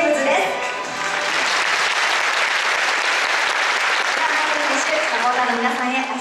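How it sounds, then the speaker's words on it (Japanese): An audience at Kawasaki Frontale's 2017 new-team presentation applauds steadily to welcome defender Michael James, a dense wash of clapping that holds evenly throughout with no pause. "皆さん、拍手でぜひお迎えください。"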